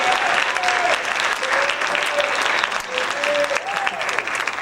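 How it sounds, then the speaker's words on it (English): An audience at a high school jazz concert gives a loud, sustained round of applause, many hands clapping in a dense wash, with a voice speaking over it at moments. "Give these ladies and gentlemen all another round of applause"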